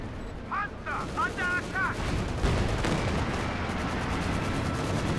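Artillery barrage in the real-time strategy game Company of Heroes 2, rumbling distant booms and gunfire layered under steady commentary, with a few short whistling tones early on.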